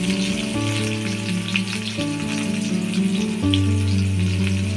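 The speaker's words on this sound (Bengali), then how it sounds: "একটু ভেজে নিতে হবে।" Chopped onion and garlic frying in hot oil for banana blossom fritters, a steady close sizzle running throughout with the low hum of a kitchen fan or stove underneath, no talking.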